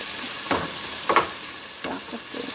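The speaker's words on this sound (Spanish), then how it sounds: "Mira, se está sofriendo, está botando su agüita." Ingredients for a spaghetti sauce sizzle and fry in a pan, with several bursts of crackling spitting over a steady low hiss as moisture cooks off, close and fairly quiet.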